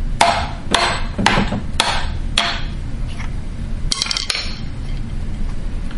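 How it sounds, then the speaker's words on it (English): Sharp, ringing hammer strikes on a screwdriver knock out a plastic block in a garbage disposal, landing one after another at a steady pace, then a quick double hit, over a low background rumble. "you take a screwdriver, you put it in here, and then you take a hammer and you hammer out the"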